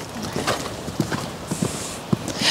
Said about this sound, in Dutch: Je mag even blijven galopperen